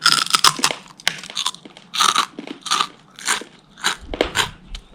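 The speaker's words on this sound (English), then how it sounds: "Let's see if the GoPro picks up the audio of Ling chewing" Someone chews hard, crunchy food right by a GoPro during a stop near Aoraki/Mount Cook, New Zealand, with loud, crackling bites that come in regular bursts about every half second, and nobody speaks.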